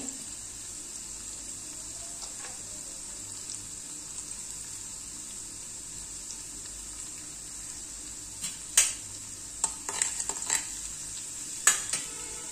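Masala with asafoetida stirred in a pan for prawn pickle, giving a faint, steady sizzle under a constant hiss, with a few louder scraping clinks of the spoon toward the end and no talking.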